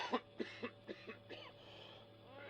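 A series of short, muffled coughs, about six in quick succession, fading toward the end over a quiet background hum.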